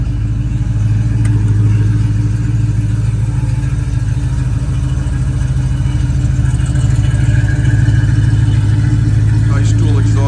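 A 1967 Pontiac Firebird with a mild cam and dual exhaust idles and revs steadily nearby, its engine rumble continuous and loud for the whole stretch.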